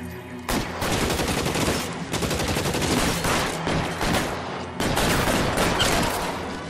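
Gunfire in the video game L.A. Noire comes as loud, rapid, dense bursts of shots, close up and repeated across the whole stretch with one short gap, and no talking.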